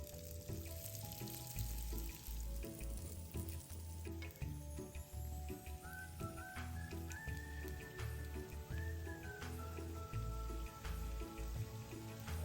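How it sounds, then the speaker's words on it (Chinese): Small Malaysian sambal burger buns deep-frying in hot oil, giving a close, busy crackling sizzle with popping bubbles and occasional clinks from a utensil, continuous throughout with no speech. "相同的步骤，将剩余的油炸至完成。"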